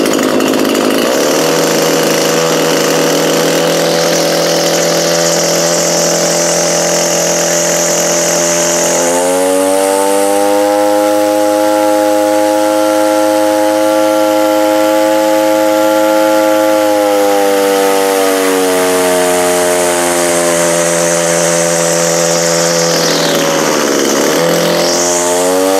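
A small two-stroke engine, chainsaw-like, idles at a steady drone, then revs sharply up around ten seconds and holds a high, buzzing whine before dropping back near the end; loud and close, with no talking.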